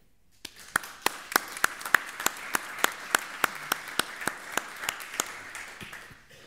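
Applause at a book presentation honouring Carlos Nardiz's work for the college. A small audience claps in sharp, distinct, evenly spaced strokes that build briefly and then thin out toward the end.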